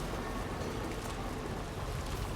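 Steady, dense rain pours down in the video game Death Stranding 2, a constant soft hiss of drops hitting the ground with no breaks and no voices.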